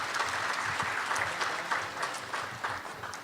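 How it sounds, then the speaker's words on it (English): An audience applauds to welcome guests at a community event, with steady mid-level clapping and some distinct individual claps over a soft room background. "Let's welcome all of you and give you a big round of applause."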